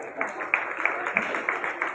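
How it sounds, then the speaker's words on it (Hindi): Listeners at a Hindu devotional gathering for Nandotsav clap in a quick, regular rhythm, moderately loud and close, with a voice speaking over the clapping. "आप लोग अपने लिए ताली बजाएंगे।"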